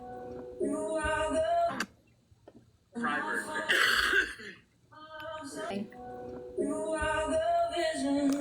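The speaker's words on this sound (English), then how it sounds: "Oh, Lord. Not the coughing." Someone coughs and clears their throat in several harsh bursts, with pauses of quiet between them, close to the microphone.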